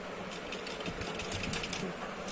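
A sewing machine stitching suit fabric, a fast even mechanical whir of needle strokes with faint rattling, close and steady for a couple of seconds.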